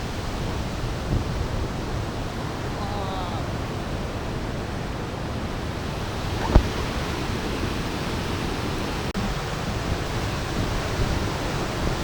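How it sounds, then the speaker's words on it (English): A waterfall on the four waterfalls trail in Brecon, Wales, roars as a steady, dense wash of noise close by, unbroken throughout with one brief sharp knock partway. "And this is one of 4 waterfalls."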